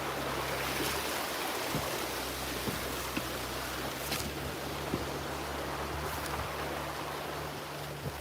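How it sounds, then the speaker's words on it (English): Stream flowing near Lake Baikal in Russia, a steady soft rushing and trickling of water heard from a distance, continuous and fairly faint with a few light knocks. "I can hear the streams from my house, from our plot over there."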